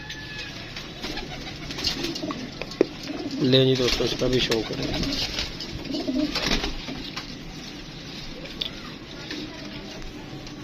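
Several racing pigeons coo in low, rolling bursts near the middle, with someone speaking over a steady background hum, at a pigeon sale in Lahore.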